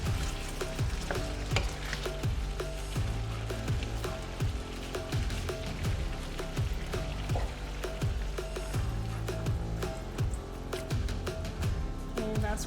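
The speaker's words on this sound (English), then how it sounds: "now I'm just going to try here to mix everything in nicely" Ingredients being stirred and mixed in a cooking pot, with a steady sizzling wash and irregular stirring clatter running continuously throughout, over other background sound.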